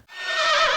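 A horse's neigh from the strategy game Battle for Wesnoth rings out clearly and alone, a sustained bright whinny with wavering pitch that swells in under a second.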